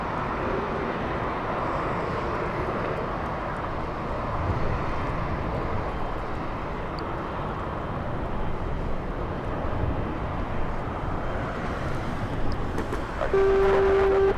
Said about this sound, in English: Southwest flying in from Nashville, Tennessee, a 4-hour flight for this one